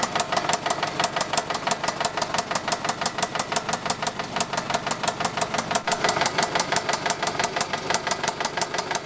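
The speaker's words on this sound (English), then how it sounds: "There's absolutely no difference in the engine. It's still making a major rapping noise." A car engine idles with a harsh, rapid rapping knock after an oil additive has been added. Sharp metallic ticks repeat evenly and quickly throughout, loud and close, with no voices.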